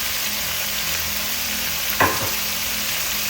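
Chicken liver and gizzards adobo simmers in a pan with a steady, even bubbling hiss throughout, broken by one brief soft clink near the middle; no voices.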